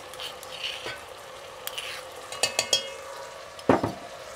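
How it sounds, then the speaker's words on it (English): Browned onions and garlic paste fry in a pan with a quiet, steady sizzle, broken by a few scraping stirs and a sharp clink of utensil against the pan near the end. "As soon as the onions are brown, we're going to add the garlic paste"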